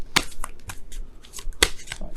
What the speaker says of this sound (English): shuffle